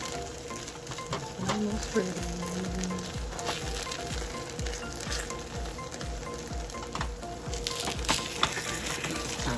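A breakfast sandwich fries in a mini pan with a steady, close sizzle, broken by scraping and stirring clatter. A voice briefly speaks over it.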